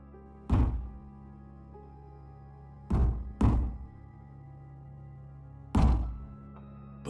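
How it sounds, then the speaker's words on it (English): Heavy, dull thumps sound in a quiet room, one alone, then a close pair, then a single blow, each landing with a deep resonant thud and a short decay against low background hum. "The thumping started."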